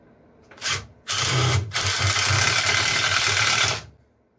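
A power drill driving pocket hole screws into wood for a large wishing-well planter. A short whirring burst is followed by a sustained, loud, close drive of about three seconds, and then the motor stops.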